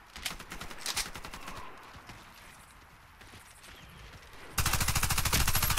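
Tavor CTAR-21 rifle firing in the Warface shooter game. Rapid automatic bursts ring out early, then a louder, dense burst of fire closes the clip with no voices.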